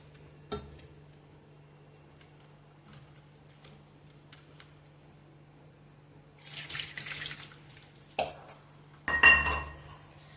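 Water runs and splashes briefly, with a short burst followed by a louder gush near the end over a steady low hum, no voices.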